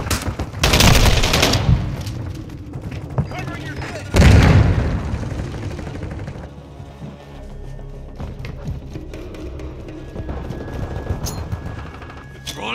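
Gunfire and grenade blasts in a Call of Duty Modern Warfare 2 multiplayer match in a forest, two heavy explosions early with scattered shots after, under shouted in-game callouts.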